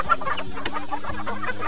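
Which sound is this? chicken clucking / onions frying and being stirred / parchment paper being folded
chicken clucking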